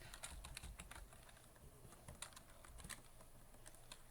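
Rapid keystrokes on a computer keyboard while code is typed, a steady run of light clicks with brief pauses, close and fairly quiet.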